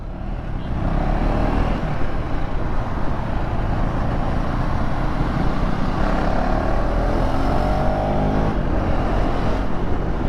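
KTM 390 Adventure X motorcycle ridden through city traffic, a steady close engine drone with wind and road rumble running continuously, no speech over it.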